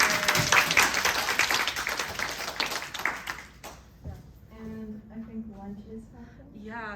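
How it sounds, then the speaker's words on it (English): An audience applauds at the close of a career panel, a dense burst of clapping that fades out after a few seconds, followed by a person speaking. "if we could get a round of applause"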